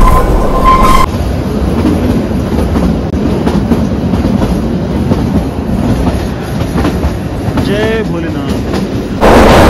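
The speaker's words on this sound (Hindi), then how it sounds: "लेकिन ये ट्रेन रुक कहीं नहीं रही है, बहुत अच्छा है।" The Himalayan Queen rolls slowly toward Shimla with a steady clatter of wheels and carriage rumble, a brief high wheel squeal partway through, and a voice speaking over the train noise at the start.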